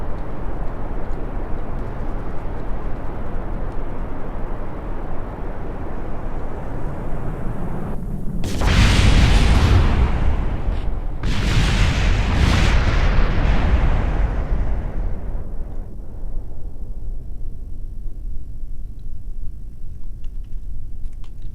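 Missile launch in the space game Kerbal Space Program: a steady low engine-like rumble, then a loud roaring blast around the midpoint with a second burst soon after, trailing off into a fading rumble.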